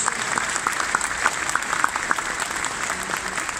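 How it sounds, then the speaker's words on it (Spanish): A congregation at a church service claps together, a sustained, even roar of applause with a few distinct sharp claps standing out near the front, steady and full for the whole stretch. "Démosle un aplauso al Señor bien fuerte por ellos."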